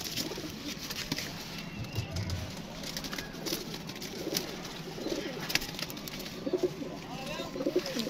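Pigeons kept with a male and female in a loft coo softly now and then amid rustling and background noise, with faint voices nearby.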